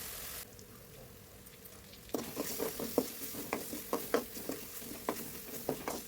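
Ginger-garlic paste with curry leaves sautéing for a prawn gravy: a quiet hum gives way to a sudden, steady sizzle with rhythmic stirring taps, close up and with no talking.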